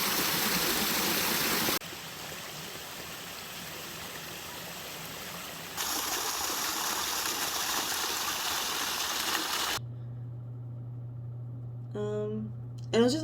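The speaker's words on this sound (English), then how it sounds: "some really nice waterfall footage" Waterfall footage: a steady, loud broadband rush of falling water fills most of the stretch, changing in character between shots, then gives way near the end to a quieter scene with a low hum and some brief chirping sounds.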